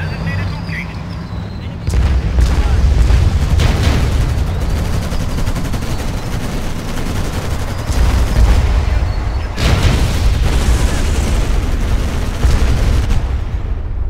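Battlefield gunfire and artillery in Codename Panzers Cold War as units come under enemy fire: dense, continuous rattling shots and heavy booms, loud throughout, with voices speaking over the barrage.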